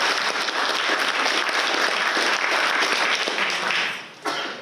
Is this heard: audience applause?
yes